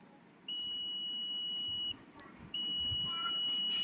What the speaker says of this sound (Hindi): जब कंटिन्यूटी मोड पे आप मल्टीमीटर को रखते हैं और आप इसके प्रोब को आपस में शॉर्ट करते हैं, तो हमें एक बीप सुनाई देती है